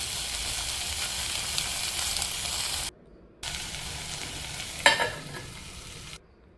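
Vegetables cook in plenty of hot oil for a Bhogi festival offering, giving a loud, steady sizzle close by. Two brief silences break it, and a short scrape of stirring rises midway.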